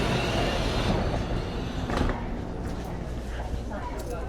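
A local train rumbles and hisses at a small station in Taiwan as its gates close, with a steady mid-level roar, a louder surge partway through and faint squeals, while a voice talks over it.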